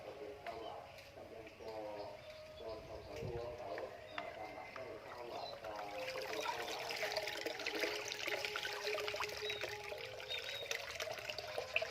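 Black sesame seeds being washed in water through a sieve: a steady trickling and pouring of water, close and moderately loud, building toward the end, while someone talks over it.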